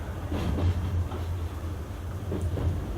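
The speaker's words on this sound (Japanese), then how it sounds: "ここがね、列車の中ですね。" Low, steady rumble inside a moving Oigawa Railway passenger train cabin at night, with soft rhythmic rattles and clunks from the wheels, close and continuous.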